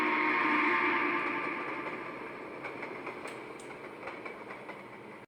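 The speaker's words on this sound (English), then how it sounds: "The train reverses through a unique-looking railroad crossing as it makes its way back to Sherwood." Southern Pacific 4449 steam locomotive and its train reversing through a railroad crossing, a steady rolling rumble of wheels with faint clickety-clack on the rails, fairly close at first and gradually fading.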